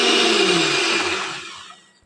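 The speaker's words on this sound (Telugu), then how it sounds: "ఈ అగారో మిక్సీ నాకు చాలా బాగా నచ్చిందండి ఎంత త్వరగా మెత్తగా చేసేస్తుందంటే పిండ్లన్నీ చాలా త్వరగా రెడీ అయిపోతున్నాయి" An Agaro mixer grinder runs loudly and steadily, grinding batter at high speed, then its whir fades away as it winds down near the end; no one speaks.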